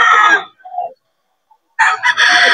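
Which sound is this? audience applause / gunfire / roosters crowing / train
roosters crowing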